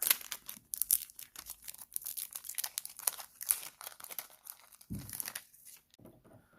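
Close, crisp crinkling and rustling of a thin plastic bag being peeled off an SGC graded trading card slab, in irregular bursts with a short pause before a final rustle.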